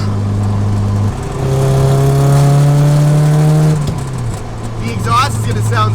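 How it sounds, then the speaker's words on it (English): Mazda Miata engine revving through its exhaust, a close, loud rising drone that climbs and holds before dropping back to a steady idle hum, with a voice talking over the end. "The exhaust is gonna sound so good when I close that."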